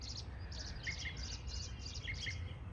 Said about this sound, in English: you can hear them. I believe that's like a mockingbird right there.